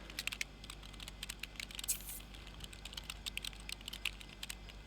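Rapid, busy keyboard typing by a character in the life-simulation game The Sims 3, a dense run of quick clicky keystrokes with a few louder taps, close and steady over a low background hum, no talking.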